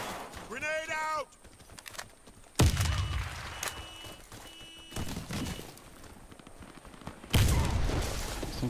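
Gunfire and a grenade blast in the video game Warface come as sharp, loud bursts of shots and thuds in several separate bouts, with a brief voice heard near the start.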